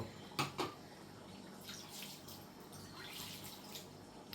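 Water poured into a pot of tough dried jackfruit pieces with turmeric and salt, a couple of sharp splashing bursts near the start followed by softer trickling and sloshing, close and fairly quiet.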